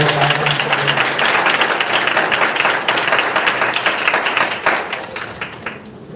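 An audience at a bishop's church sermon claps together in a dense, sustained round of applause that fades toward the end.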